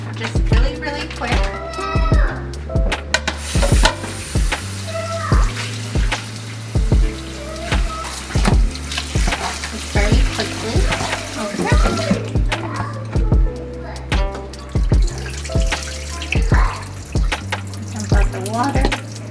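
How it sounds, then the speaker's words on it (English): Seafood for ceviche gets a quick rinse under a running kitchen tap, with steady splashing water and clattering, knocking sounds close by, while a person talks over it throughout. "I like to give it a really quick rinse, just really quick"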